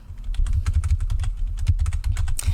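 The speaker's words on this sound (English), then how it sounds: "you will hear my keyboard clattering away" Computer keyboard typing clatters close and loud in a quick, steady stream of key presses with no voices.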